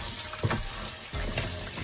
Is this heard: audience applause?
no